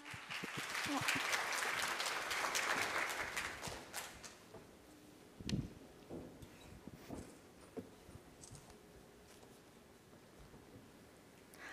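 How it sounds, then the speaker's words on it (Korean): Audience at a student future-society scenario competition session applauds to welcome presenting team, a dense burst of clapping for several seconds that fades out, followed by quieter room sounds and a few thumps. "역시 큰 박수로 환영해 주시기 바랍니다."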